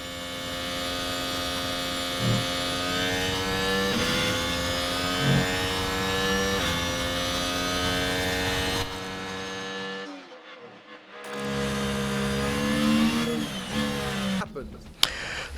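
Formula 1 cars with 1.6 hybrid engines whine at high revs in the F1 Manager 23 video game, a sustained harmonic engine tone rising and shifting, briefly cutting out before resuming.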